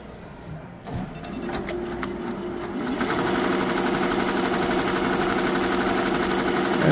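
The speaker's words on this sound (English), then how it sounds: "It's going to start stitching the same thing on the right side." Embroidery machine stitching a small 2-inch logo, a fast steady mechanical rattle that starts with a few clicks and settles into continuous rapid needle strokes.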